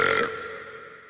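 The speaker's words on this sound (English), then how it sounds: "I burp really loud in an underground parking structure" A single loud burp from an animated cartoon character in an underground parking structure, strong at the start and then trailing off into a fading rumble.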